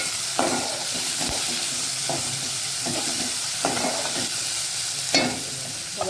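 Soaked chana dal sautéing on a high flame, with a constant hissing sizzle and several spaced spatula scrapes against the pan, fairly close, with no talking.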